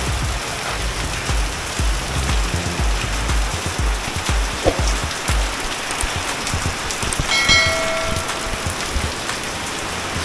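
Heavy rain pours down steadily and loudly, hissing and pattering on surfaces close by, continuous throughout with no voices.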